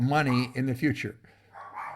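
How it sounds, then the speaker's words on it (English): Dogs bark in the background while a person keeps talking over them, with a few short barks coming through near the end. "you might hear my dogs in the background"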